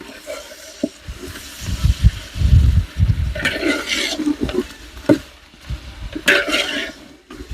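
A spoon stirs meat with garlic, ginger and green chili paste in a pot at a village kitchen, giving irregular wet scrapes and clanks with a sizzling, watery churn between strokes.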